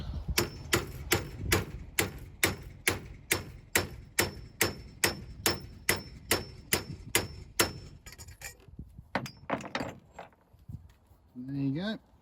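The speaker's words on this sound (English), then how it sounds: "we mean hit it with a hammer" A hammer strikes a fitment tool to drive a steering head bearing race onto a Honda CB 400 Four motorbike part. Around seventeen sharp, evenly spaced metallic blows ring out, then stop before some quieter handling noises.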